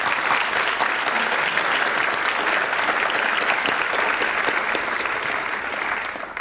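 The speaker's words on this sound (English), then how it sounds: "Let's give them a round of applause." A large audience at a high school National Honor Society induction ceremony claps without pause, a dense, even wash of applause that stays loud for the whole stretch.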